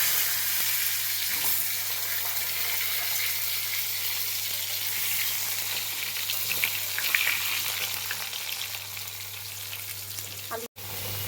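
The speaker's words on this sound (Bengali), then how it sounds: "এবার আমি এই কেটে রাখা আলুগুলো ডুমো ডুমো করে এইগুলো এবার আমি ভেজে নেব, সুন্দর করে ভেজে নেব।" Diced potatoes fry in hot oil for a fish-and-potato curry, giving a steady, close, broadband sizzle that holds evenly throughout, with a brief dropout near the end; no one speaks.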